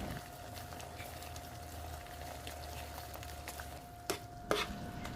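A sardine spaghetti sauce seasoned with pepper and pink salt cooks down in a pan, a steady low bubbling simmer with a faint hum, then two clearer scraping stir strokes near the end.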